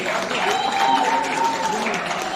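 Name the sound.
audience applause at a sangeet ceremony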